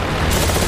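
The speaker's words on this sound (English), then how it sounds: "Machine guns." Warbird machine guns firing in the DCS flight simulator, a dense, loud burst of rapid automatic fire that fills the whole short moment without a break.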